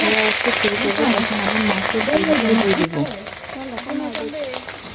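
Hilsa fish pieces fry in hot oil in a kadai, giving a steady, close sizzle and crackle while someone talks over it throughout.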